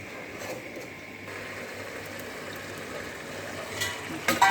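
Masala fries in a pot for chicken biryani with a steady, close hiss and sizzle that runs throughout, ending with a brief clatter at the pot.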